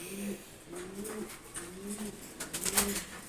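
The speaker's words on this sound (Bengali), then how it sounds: "এখানে সবগুলো নর কবুতর," Male pigeons of several breeds coo nearby in repeated low rolling phrases, each swelling and fading about once a second, with light rustling and a soft wing flutter near the end.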